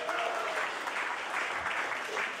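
Audience applause at a concert at the Geek Easy in Orlando, Florida: steady, dense clapping from a small club crowd, sustained and fairly even throughout.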